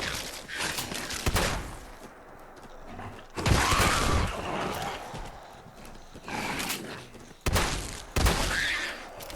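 Gunshots fired at mole rats in Fallout 4 come as a few loud, sharp cracks spaced through the scene, mixed with clattering game sounds and scuffling creatures, with no talking.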